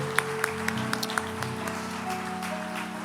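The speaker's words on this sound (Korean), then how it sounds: "우리 일어나실 때 정말 뜨겁게 박수로 축복하기를 원해요." A church congregation applauds during a Sunday worship service, a few sharp, distinct claps rising over a sustained organ-like tone, then fading into the music.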